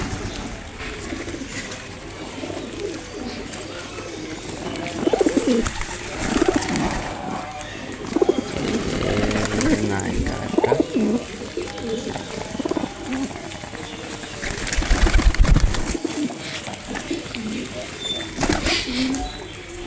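Large pet pigeons cooing in a pigeon loft, the low coos mixed with wing flutters and rustling while someone talks over them close by.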